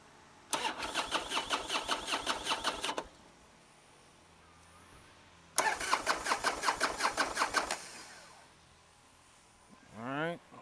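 A motorcycle engine cranks twice in rapid rhythmic chugs, each cranking spell lasting a few seconds, but it fails to catch with the spark plug wires disconnected, ending with a brief voice.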